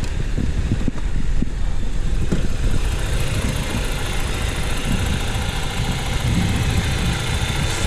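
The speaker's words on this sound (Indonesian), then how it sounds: "Secara mesinnya masih halus" Steady, even drone of a BMW E46 car engine running smoothly, heard close up as a continuous broadband rumble with no talk.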